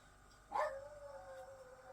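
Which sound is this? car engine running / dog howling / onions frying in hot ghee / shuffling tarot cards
dog howling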